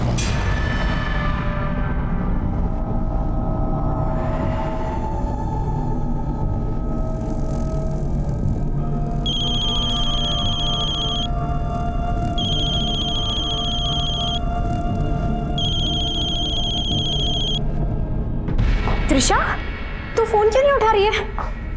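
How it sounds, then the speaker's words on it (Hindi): A telephone rings unanswered, three evenly spaced electronic ring bursts sounding over a low ambient rumble, with someone talking around them and louder voices near the end. "माँ बेल तो जा रही है लेकिन फोन नहीं उठा रही है"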